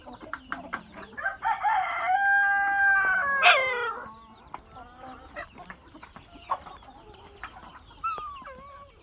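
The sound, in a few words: hens clucking while eating hydroponic fodder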